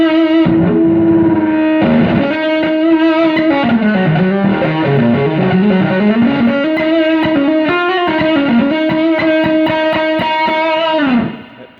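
Electric guitar through a JHS PG-14 distortion pedal with the drive maxed, a loud, saturated sustained passage of chords and bending lead notes ringing continuously before cutting off at the end.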